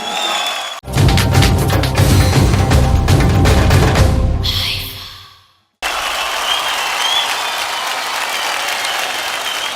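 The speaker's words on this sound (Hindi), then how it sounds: "जोरदार तालियां हो जाए" Loud crowd applause and cheering at an awards show fills the first few seconds, then breaks off abruptly and gives way to a quieter, steady murmur of audience noise.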